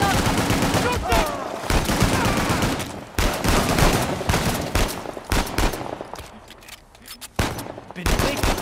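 Gunfire in an ambush in the video game Uncharted: The Lost Legacy: loud bursts of automatic and single shots in rapid clusters with brief lulls, under some speech.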